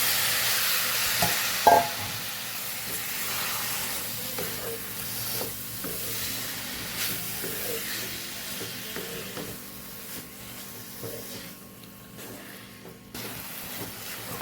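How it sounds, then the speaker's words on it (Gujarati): Potatoes sautéing with masala spices in a pan, a steady low sizzle with soft stirring scrapes and a brief sharp clink near the start, continuing alone without talk. "મસાલા સાથે આપણે બટેકા પણ મસ્ત એવા સતળાઈ ગયા છે અને મિક્સ પણ થઈ ગયા છે"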